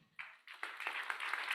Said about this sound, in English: A round of applause for Irache.